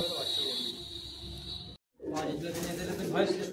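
Madrasi pigeons cooing in a loft, soft murmuring calls with a steady background hum, broken by a brief silent gap before the low cooing resumes close by.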